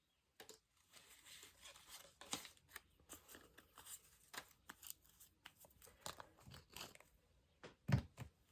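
Scissors snip through paper scraps for an art-journal collage, a quiet run of short crisp cuts in irregular rhythm, close and faint, with one louder snip near the end.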